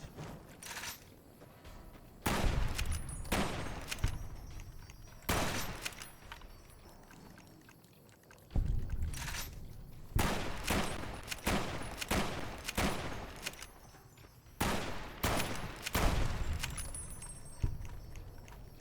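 Gunfire in Fallout: New Vegas during the Big MT target shooting, a series of loud sharp shots, some in quick pairs and bursts, separated by short quiet gaps and set against a faint background.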